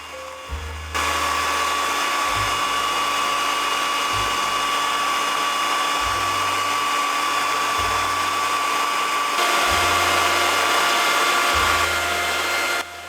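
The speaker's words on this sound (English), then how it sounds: "Using a hand mixer, begin whipping the coconut milk." Electric hand mixer whips coconut milk in a bowl, a steady loud motor whine held close throughout with a low rhythmic churning knock from the beaters repeating every second or two.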